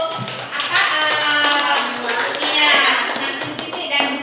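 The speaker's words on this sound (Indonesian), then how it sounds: "tepuk tangan semuanya untuk" Hand clapping from a classroom or workshop group, a dense, steady patter of many hands that runs nearly unbroken for a few seconds at close range.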